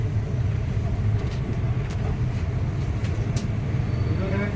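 Express train pulling out of Rampurhat station, a continuous low rumble of wheels and carriage noise with faint clanks, steady and close, without speech.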